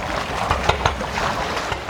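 Wooden boat crossing the fast-flowing Gonzales Strait toward Adonara, Indonesia, carrying motorbikes: continuous water rush and wind against the hull with a few soft knocks, fairly loud and unbroken.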